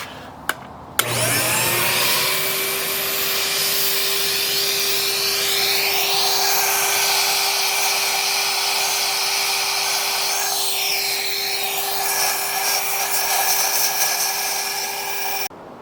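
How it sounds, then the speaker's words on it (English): A vacuum cleaner with a hose extension switches on after a brief click and runs with a steady high whine, its pitch shifting slightly as the hose moves, then cuts off; used cleaning a C55 car engine bay. "I just cleared out quite a bit just using the regular vacuum tip"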